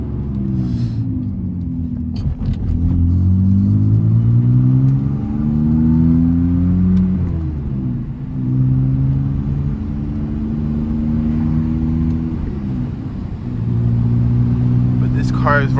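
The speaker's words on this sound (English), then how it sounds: "this car is running so smooth now; it's not clanking" A car under rebuild cruises with a smooth, even engine drone and low road rumble, its pitch rising and falling with a few gear changes, loud and close throughout without any clanking.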